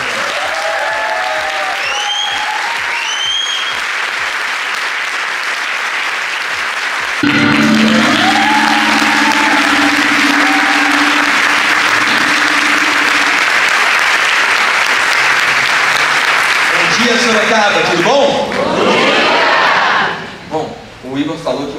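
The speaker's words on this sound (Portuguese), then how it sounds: "uma calorosa salva de palmas" An audience at a business breakfast of a commercial association applauds, scattered clapping swelling into loud sustained applause from a crowd, with some voices and cheers mixed in near the end.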